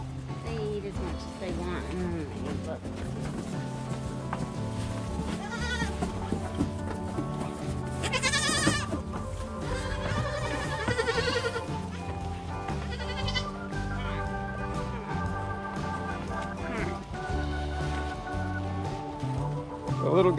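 Baby goats bleat several times in a farm stall over a dense, continuous background of tonal sound and voices.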